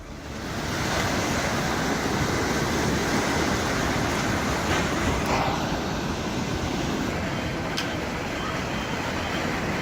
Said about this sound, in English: Violent waves forced the closure of Cap d'Antibes Coastal Road.